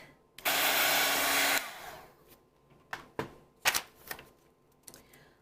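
A heat gun drying paint at a kitchen-table art session gives a loud, steady, close-up whoosh for just over a second, then cuts off, followed by a few quieter clicks and taps.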